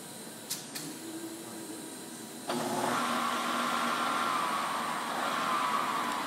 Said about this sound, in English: Jogging on the spindle.